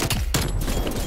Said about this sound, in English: Simtex grenade.